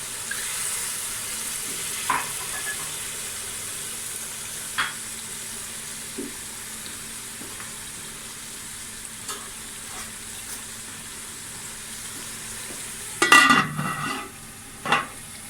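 Chicken curry frying in a pan gives a quiet, steady low sizzle punctuated by occasional spoon taps and scrapes, with a louder burst of clattering stirring near the end.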